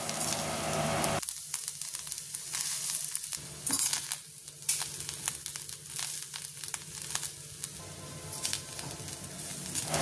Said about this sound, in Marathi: सो मिडियम फ्लेमार बरी भाजून घेवपाची तांबडी जायसर